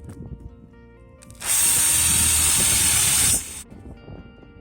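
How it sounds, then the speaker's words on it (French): A power drill bores a hole into a small wooden plank from a pallet, a loud, steady high whine lasting about two seconds between quieter workshop handling noises. "il va falloir les percer de chaque côté là, parce que au moment du serrage, quand je vais mettre la vis"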